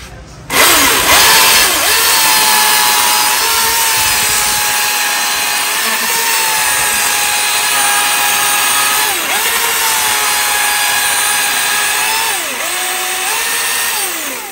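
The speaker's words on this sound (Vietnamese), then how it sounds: "Này cưa cây bự nó đâu ngán." A Milwaukee cordless chainsaw runs steadily through a large log, a loud continuous whine with brief dips in pitch as the chain bites into the wood.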